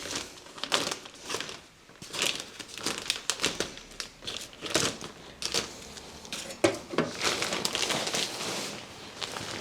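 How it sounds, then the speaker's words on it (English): A heavy plastic bag of compost is opened up close, producing irregular crinkling and rustling with sharp crackles and short pauses, continuing steadily for several seconds. "I'm going to open my bag of compost."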